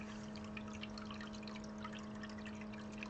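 Water pours steadily during an aquarium water change as the tank water turns a little dirty. The splashing is a continuous, fairly faint rush with a low steady hum beneath it.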